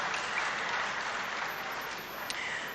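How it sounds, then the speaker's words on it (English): Studio audience applauding in a televised discussion program, a steady dense wash of clapping that holds evenly for a few seconds with no voices over it. "Let's hear a round of applause for both of them."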